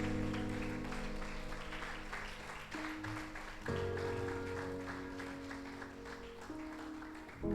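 A church congregation claps its hands steadily for several seconds, the applause blending with sustained keyboard or organ chords that shift partway through.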